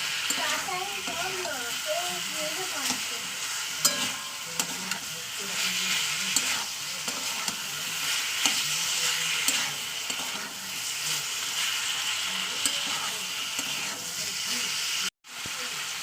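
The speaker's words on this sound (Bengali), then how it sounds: "দেখতে পাচ্ছেন লবণ হলুদ দিয়ে দিয়েছি এবার এটা ভালো ভালো করে কষিয়ে নেবো তেলের উপরে একটু কষিয়ে নিয়ে" Meat with salt and turmeric frying in oil while being stirred for a tomato and coriander mangsho kosha, a dense steady sizzle with frequent spoon scrapes, a voice talking over it early on, and a brief cut near the end.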